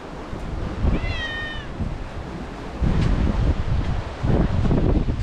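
A single clear cat meow, close and rising then falling, cuts through steady outdoor wind and surf noise at an old bath on the island of Lesvos, with rumbling gusts continuing afterward.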